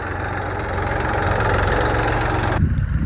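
A tractor engine idles steadily close by with a low, even chug, then cuts off abruptly near the end.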